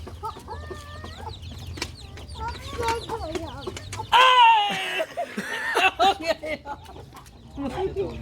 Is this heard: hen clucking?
yes